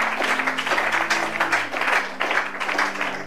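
An audience claps and applauds for a few seconds in a church Bible teaching, steady and fairly close, with a voice faintly underneath.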